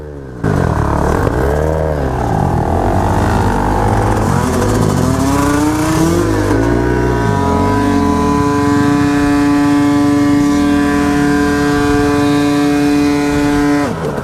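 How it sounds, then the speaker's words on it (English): A KTM 300 dirt bike engine runs steadily close by, its idle climbing into a sustained high, buzzing drone that holds without pause. "if you just heard the engine there, the throttle was completely closed"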